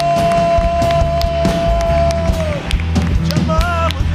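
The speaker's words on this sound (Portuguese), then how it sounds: "E se você ama esse Espírito, dê um aplauso a Ele nessa manhã." Congregation in church applauding during a morning service, dense clapping and cheering under a preacher's voice and a sustained musical tone.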